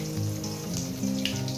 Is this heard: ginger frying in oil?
yes